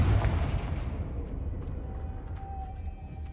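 A Confringo fire spell from a Harry Potter video game lands as a loud, booming blast that rumbles and slowly fades, with faint crackles and a few sharp ticks trailing behind.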